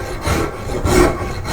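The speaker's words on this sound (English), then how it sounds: "Or we could go to a rasp like so." A rasp files wood while a koi carp is carved, giving short rough scraping strokes in a quick back-and-forth rhythm, close and clear with no talk.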